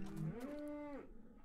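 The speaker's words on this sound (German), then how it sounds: "Okay, das waren die Kühe" Cows in the video game Minecraft let out a single drawn-out moo lasting about a second, clear and fairly loud with no talking over it.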